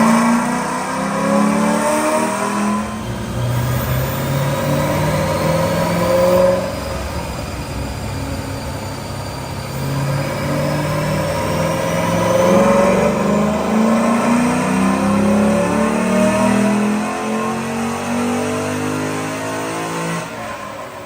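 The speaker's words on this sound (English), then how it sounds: "Check out this dyno pull" A 2007 Shelby GT with a naturally aspirated V8 runs a dyno pull, engine note climbing loudly in repeated rising sweeps, dipping briefly between surges before winding up to a sustained high-rpm roar, with no talk over it.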